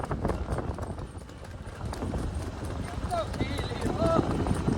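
A mare's hooves clop steadily on the ground amid outdoor background noise, with a voice talking over them throughout.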